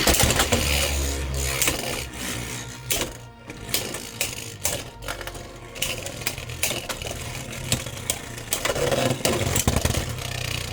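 Beyblade tops, including Mummy Curse in defense mode, whir steadily inside a battle stadium, with sharp clacks and rattles from repeated collisions throughout. A brief near-silent gap falls about a third of the way in, with no talking.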